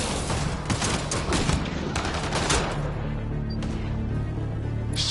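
Enemy gunfire in Mass Effect Andromeda, a loud sustained barrage of rapid shots that thins out toward the end under a low ambient hum.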